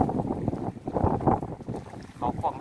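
Strong wind blows across a natural seaside fishing pond in Samut Sakhon, Thailand, buffeting the microphone with gusty, uneven roaring close up while someone talks over it.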